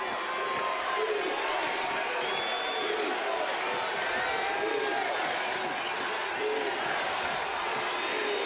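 A basketball arena crowd at an NCAA men's game between Memphis and Missouri roars continuously, a dense wash of cheering and whoops at steady volume, with occasional sharp squeaks and thuds from the court and commentary voices under the noise.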